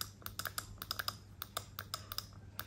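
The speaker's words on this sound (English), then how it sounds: "So let's hear the click sound." Apple Magic Mouse button clicked over and over: quick, faint, crisp clicks in an uneven run, heard alone up close.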